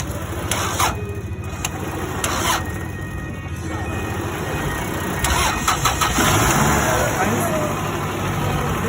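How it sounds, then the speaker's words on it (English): Car engine cranking and catching with a portable jump starter and the battery removed, a loud close start that settles into a steady idle, with a hum and faint bystander voices mixed in. "So it's starting the car without the battery inside."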